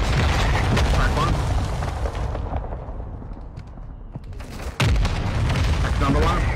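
Mortar strike explosions in a video game fill the clip with a loud, continuous rumbling roar. The blasts swell and fade, then one heavy boom hits near the end.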